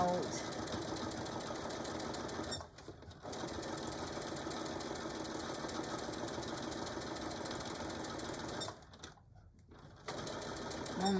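A sewing machine stitches a carry bag for tools, running in a close, steady mechanical whir with two short pauses where the motor briefly stops before resuming, finishing with a little back stitch.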